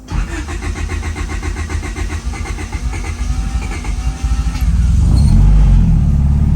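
A car engine, tuned for 18 psi of boost, cranks with a rapid rhythmic whirr once the fuel pump is switched on, then catches roughly and settles into a loud, steady rumble up close.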